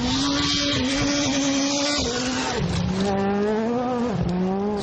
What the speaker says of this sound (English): So much more higher revving than the World Rally cars. You can hear it out of that corner.